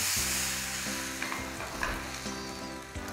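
Blended chocolate batter cooks in oil in a frying pan on the lowest heat, giving a soft, steady sizzle with a few faint scrapes over a constant background hum.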